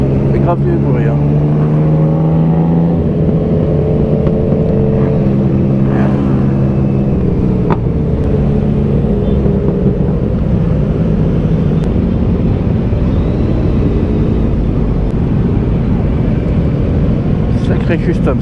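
Loud, continuous engine drone and revving of a motorcycle convoy riding through a protest for lane splitting, with passing bikes throughout and a rider's voice occasionally over the steady roar.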